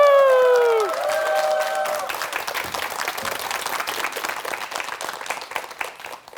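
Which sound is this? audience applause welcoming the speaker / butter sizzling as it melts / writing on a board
audience applause welcoming the speaker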